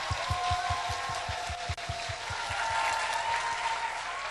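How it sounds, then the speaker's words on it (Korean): A church congregation clapping in praise to God, a steady rhythmic beat of unified claps over a broad wash of crowd noise, brief dip midway. "다시 한번 하나님께 영광의 박수 돌려드립시다."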